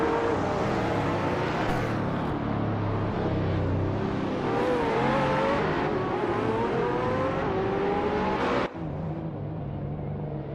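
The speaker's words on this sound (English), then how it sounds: "Jerk Plays is rapidly gaining on Okinabaka, now just a few car lengths behind." Race cars in a video game race roar continuously, their engines climbing and shifting in pitch as they accelerate and jostle for position, loud and steady throughout with a brief dip near the end.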